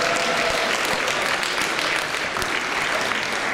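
Steady, dense applause fills the hall at a secondary health school's ball, a large crowd clapping continuously and evenly for the whole stretch with no voices on top.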